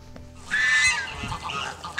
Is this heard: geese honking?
yes